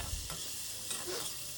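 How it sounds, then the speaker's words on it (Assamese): Meat fries together with potato pieces and chopped onion in a wok, steady close sizzling broken by a few scraping stirs of the spatula, with no voices. "আৰু এনেকৈ খুব ভাজিব এতিয়া"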